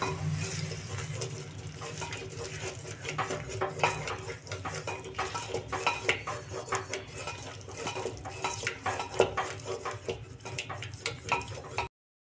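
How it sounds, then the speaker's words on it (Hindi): A spoon steadily stirs yogurt and spices in a pan on a low flame, with continuous scraping and clinking against the metal and no talking. "इसे कंटिन्यू चलाते हुए पकाएंगे ताकि दही हमारे फटने ना पाए।"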